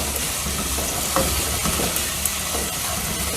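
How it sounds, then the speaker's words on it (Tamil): Tomatoes sautéing in a pan for a Kadappa gravy with cinnamon, cloves, garlic and onion, giving a continuous moderate sizzle with occasional stirring scrapes and no speech. "தக்காளி போட்டு இப்போ வதக்குறோம்"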